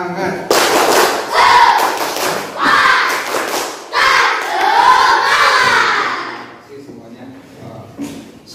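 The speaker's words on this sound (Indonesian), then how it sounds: "Sekali lagi tepuk semangat." A classroom of children performs the rhythmic Indonesian 'tepuk semangat' spirit clap, with bursts of loud group clapping and shouted chanting in several patterned phrases, then fading to quiet near the end.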